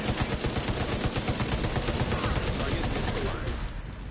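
Dense gunfire in The Division 2, a sustained rapid rattle of automatic shots and bursts, loud and close throughout, thinning slightly at the end.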